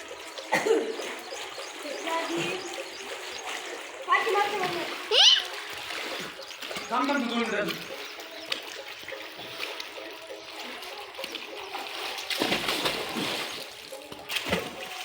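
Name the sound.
splashing water while swimming in well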